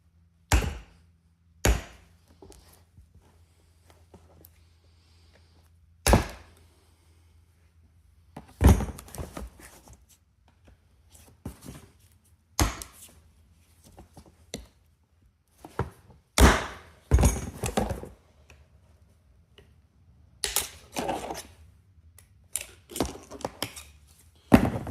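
A flathead screwdriver pries the clamps off a CV axle boot on a 2007 Volvo S60R, giving sharp metallic clicks and clunks in scattered bursts separated by quiet pauses, close and fairly loud.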